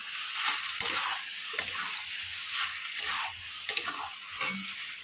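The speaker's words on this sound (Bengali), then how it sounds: "জলটা আমি ঝরিয়ে রেখেছিলাম মোটামুটি, মিক্স করে নিই সবগুলোর সাথে।" Drained vegetable pasta is stirred and tossed through vegetables in a hot pan, giving a steady sizzle broken by repeated scraping and clacking strokes of a utensil, close and moderately loud with no talking.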